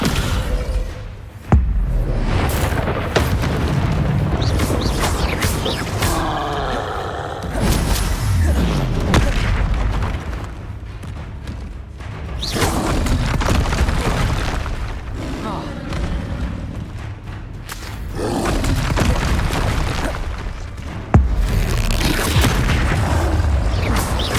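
Explosive combat spells blasting in Hogwarts Legacy, with repeated heavy booms and thuds layered over a continuous game soundscape of whooshes and mechanical noise, loud and close throughout.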